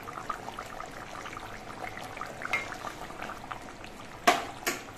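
Mustard hilsa fish curry simmering gently in a pot, a soft continuous bubbling with two brief louder clinks of a utensil near the end.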